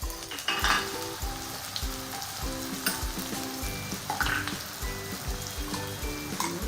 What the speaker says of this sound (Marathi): तेल गरम करून घेतले, त्याच्यामध्ये मी कांदा टाकणार आहे